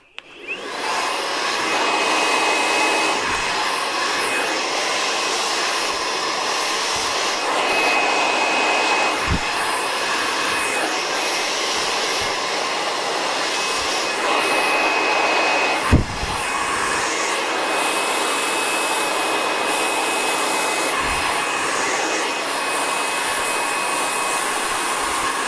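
Hair dryer blowing hair with the nozzle held close to a round brush, a constant loud rushing whoosh lasting the whole span, with a few small knocks and bumps and no speech.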